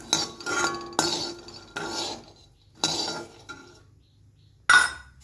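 Metal spoon scraping and clinking against a pan while peanuts roast for masala chitranna, several sharp separate clinks and stirring scrapes with quiet gaps between them, close up and with no talk.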